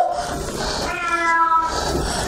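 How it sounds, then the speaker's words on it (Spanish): A cat meows in drawn-out, wavering cries, fairly close and clear, with almost no talk over it. "Gatita."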